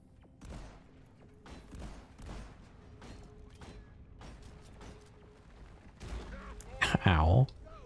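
Video game gunfire, a series of sharp shots spaced through the clip at moderate loudness, followed near the end by a louder burst of sound and a voice speaking.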